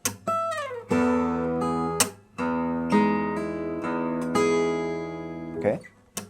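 Guitar notes plucked on the first and second strings with two fingers, mixed with bass notes, in a lesson for a song: a series of ringing plucks in a steady rhythm, fairly close and clear.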